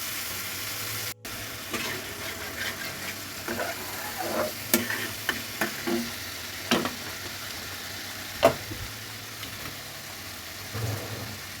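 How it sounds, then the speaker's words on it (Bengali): Chili spice paste frying and being stirred in a pan at home, with a steady low sizzle and scattered scraping clicks of the spoon against the pan, close and moderately quiet. "মরিচ মশলাটা একটু কষিয়ে নেব।"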